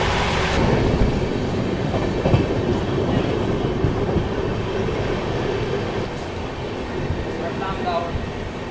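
Continuous rumble and clatter of the Gujarat Sampark Kranti Express running on rails near Ahmedabad, a steady loud rolling din with faint squeals and wheel clicks throughout, with indistinct voices underneath.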